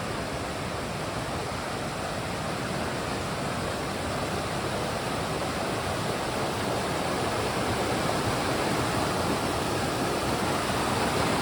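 Rushing freshwater stream in Hells Canyon, Idaho, a steady, loud broadband roar of flowing water close by, continuous and unbroken with no voices.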